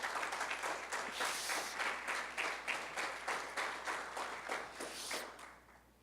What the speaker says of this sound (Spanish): Si me entendió, dele un aplauso a Cristo.